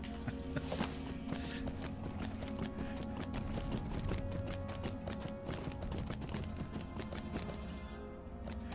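Horse hooves clip-clop steadily in Lord of the Rings Online, a continuous even rhythm of close, loud strikes running throughout with game ambience beneath.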